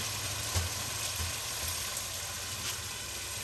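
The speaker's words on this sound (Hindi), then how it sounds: "मसाले को हम 5 से 6 मिनट तक अच्छी तरह से भून लेंगे।" A masala paste fries in a pan for a fish-head curry, giving a steady, faint, hissing sizzle with a low hum underneath and no talking.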